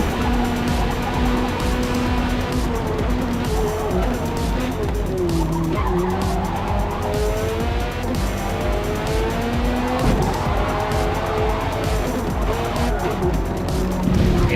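Race cars roar continuously at Silverstone in Forza Motorsport, a Corvette dueling a Viper, with engines whining through gear changes and tires squealing under steady loud racing noise.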